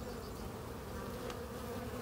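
Honey bees hum in a dense, steady drone from an opened hive where the queen is laying eggs, continuous and moderately loud without pauses.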